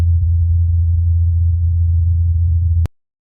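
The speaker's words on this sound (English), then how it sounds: "This is the sound of a helicopter flying on Mars." Small drone-style helicopter flying on Mars, recorded by a rover: a steady low droning hum, constant and fairly loud for a few seconds, then cutting off abruptly into silence.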